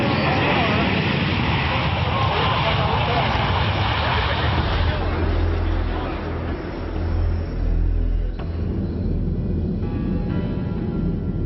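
Airliner flying over Paris in 1994 with a Romanian pilot at the controls: a loud, steady engine roar and rushing air fill the whole stretch, with a faint murmur of voices beneath.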